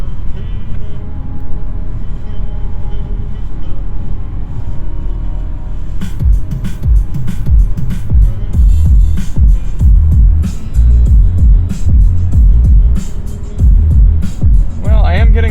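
Music plays through a 2021 Kia Seltos six-speaker system with the bass turned all the way up, booming and loud in the cabin, under occasional talk from inside the car.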